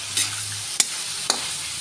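Bamboo shoots sizzle in a hot pan with a steady hiss, broken by two or three sharp clicks of a utensil stirring against the pan, close up and without speech.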